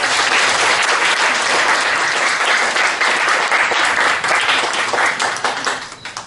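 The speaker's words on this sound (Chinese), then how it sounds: "掌声鼓励。" Audience at an Amis music concert applauding, a loud, sustained wash of many hands clapping that tapers off toward the end.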